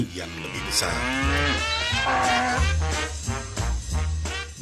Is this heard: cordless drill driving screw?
no